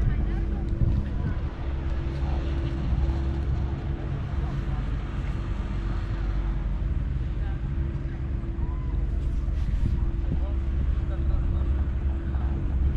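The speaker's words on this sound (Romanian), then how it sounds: "și bate vântul" Wind blows across a mountain slope at about 1400 metres above Sinaia, making a steady, loud buffeting rumble against the microphone throughout, with a voice partly masked beneath it.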